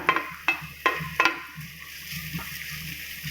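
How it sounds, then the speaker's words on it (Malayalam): Finely chopped ginger and garlic being stirred in hot oil for a gooseberry pickle, with a few sharp scraping strokes at the start over a soft steady sizzle, close by. "ഇഞ്ചി ഇട്ട് കൊടുത്ത് ഒന്ന് ഇളക്കുക. എണ്ണയ്ക്കകത്തൊന്ന് മിക്സ് ചെയ്തിട്ട് അതിൻ്റെ കൂടെ വെളുത്തുള്ളിയും ചേർക്കുക."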